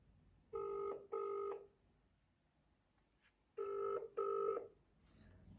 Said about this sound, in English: Unfortunately, they didn't answer the phone.